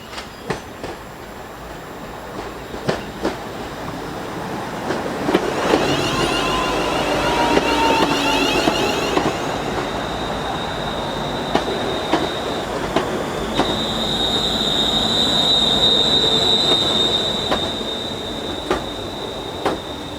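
A Class 350 electric multiple unit train moves through Park Street station on the Abbey Line. Wheels clack rhythmically and squeal, the motor hums and whines, and the sound swells and eases as the train passes close by.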